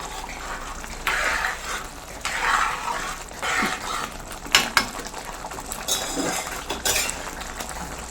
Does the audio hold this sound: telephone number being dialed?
no